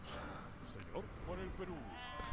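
Sheep bleat in the Age of Empires 3 video game with a few short, wavering cries over steady game noise while someone talks.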